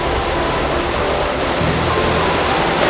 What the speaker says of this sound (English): So this is the Yan Jindong Falls on the way to Shifen Waterfall.